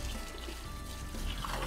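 Water flushing thick solids and non-flushable sanitary waste through a blocked sewer drain, a steady low gurgling rush with trickling and pouring texture, moderately quiet and continuous throughout, with no talk.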